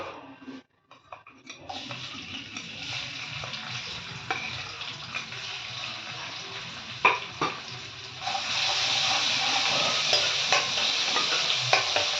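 Chili and ginger paste sizzling in a pan while being stirred, a steady close frying hiss that grows louder partway through, with scraping of the spoon and no talk.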